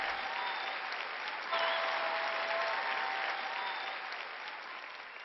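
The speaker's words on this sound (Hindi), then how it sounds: "जोर ले ताली बजाओ" Sustained applause from a church audience at a Joyce Meyer sermon, a dense, steady wash of many hands clapping that swells briefly and then tapers slightly, with no talking over it.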